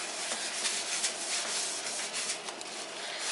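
A hand rubs grease around the surface of a baking pan for tea biscuits, a close, continuous dry rubbing and scraping sound with slight rhythmic swells, fairly loud and alone with no voices.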